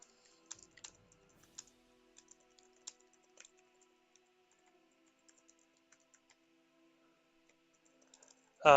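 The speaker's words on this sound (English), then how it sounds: "sorry, I'm typing here" Someone types on a computer keyboard during a board game session, producing faint, irregular clicks and taps spread across the stretch, with a louder voice cutting in at the very end.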